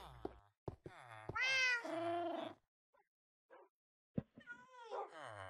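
A cat meows in the Minecraft video game on Xbox 360, giving several close, clear cries of varying length with brief pauses between them, then more meows after a short gap.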